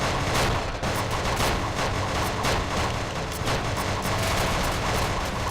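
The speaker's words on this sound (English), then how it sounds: "There's a lot of shooting happening." Dense, continuous gunfire and explosions from the space-building game Some Assembly Required, loud and unbroken throughout with rapid overlapping shots and booms.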